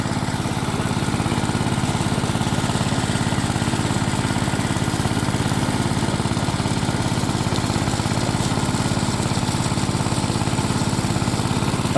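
A small engine on a farm water pump runs steadily out in a dry field, a continuous loud drone with a rough, buzzing mechanical texture that holds constant throughout.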